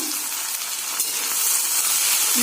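Fiddlehead fern greens stirred in a hot frying pan, giving a steady, dense sizzle that swells slightly toward the end, with faint scrapes of stirring and no talk.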